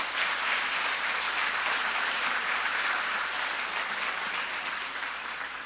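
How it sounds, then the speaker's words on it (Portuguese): Church congregation applauding Jesus during a Portuguese-language sermon, continuous dense clapping that holds steady and then slowly tapers toward the end. "Aplauda Jesus por isso."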